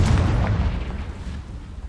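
A booming magical explosion from the Confringo spell in the video game Hogwarts Legacy, a heavy low rumble at the start that fades steadily over about two seconds, with no talk.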